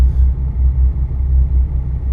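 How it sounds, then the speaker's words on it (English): A Volvo VNL 2019 truck engine in American Truck Simulator gives a deep, pulsing rumble throbbing in a slow, regular rhythm like a heartbeat, loud and continuous with no talking. "It's the engine. I think it's the engine sound."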